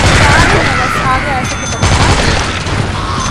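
Rapid gunfire bursts in the zombie shooter game Dead Triggered 2, loud and dense, rattling over a layer of game noise with a player's voice talking over it.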